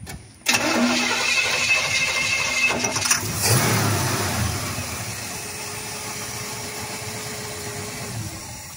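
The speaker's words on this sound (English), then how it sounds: "Yeah, I'll crank the motor." A 1939 Ford Deluxe two-door coupe engine cranks briefly, catches and fires up, then settles into a steady, close, loud running idle with no talking over it.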